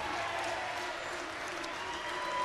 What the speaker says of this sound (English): He's getting generous applause here in Liverpool